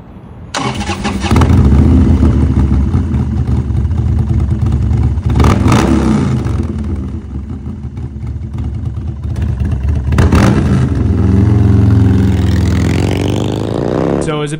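An S&S 124 cubic inch Twin Cam V-twin motorcycle engine cranks and fires up, settling into a loud, lumpy idle close by, with a couple of throttle blips rising and falling before it idles again.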